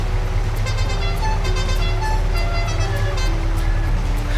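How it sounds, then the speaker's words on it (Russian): A car horn in Farming Simulator 22 sounds as a steady multi-tone honk held over a loud, continuous engine drone, with no talk. "Это сигнал автомобиля такой."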